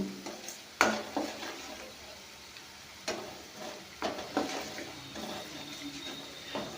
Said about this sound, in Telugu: దీన్ని కూడా ఈ విధంగా కలుపుకుందాం